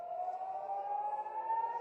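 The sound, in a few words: air raid sirens sounding in Tel Aviv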